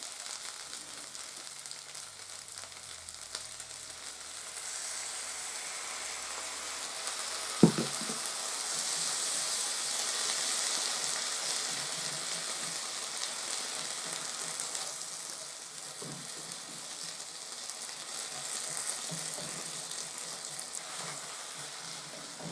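Natto yakisoba noodles stir-fry with Worcestershire sauce over a low gas flame, giving a steady hissing sizzle with occasional scraping and stirring clatter and one sharp knock.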